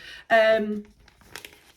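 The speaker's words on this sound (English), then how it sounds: "These are only like, you know, sandwich bags." Thin plastic sandwich bags crinkle up close, a loud rustling burst followed by a few softer, scattered crackles.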